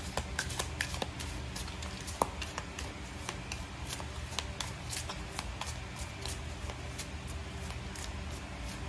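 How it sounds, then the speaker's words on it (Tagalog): Quiet, crisp shuffling of tarot-style reading cards with a series of soft flicks and riffles, then a card being drawn, close by and without speech. "kumuha lang tayo dito ng isang baraha"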